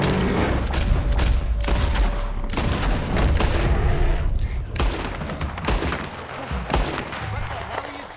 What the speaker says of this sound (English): What the hell are you shooting at?